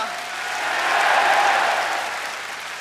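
Large live concert crowd at the Tokyo Forum answering a singer's call, a loud swelling roar of cheering and shouting voices that builds to a peak mid-way and then tapers off.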